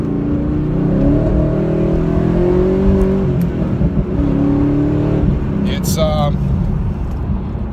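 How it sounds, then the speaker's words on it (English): A Chevy Camaro Z28 sports car engine rises and falls under throttle through a corner, loud and close, with a person talking over it and a brief sharp squeal near the end. "I'm actually going to give it a little bit of throttle so we can see how it reacts."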